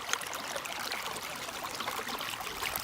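Water flows and trickles continuously, a soft, even babble of a small, slightly green, mucky stream on the Pacific Crest Trail, heard close by with no talking.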